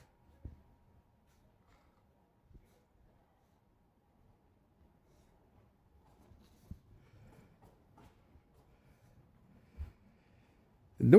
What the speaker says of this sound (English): The noise you hear in the background is people who are actually doing a roof across this